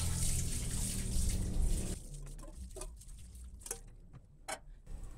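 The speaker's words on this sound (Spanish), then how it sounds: "Solo le voy a echar agua caliente por encima" Hot water is poured over a metal frying vat to loosen grease, a rushing splash for the first two seconds that gives way to scattered drips and spatters, close by, with no talking.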